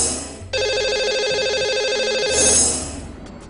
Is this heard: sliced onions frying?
no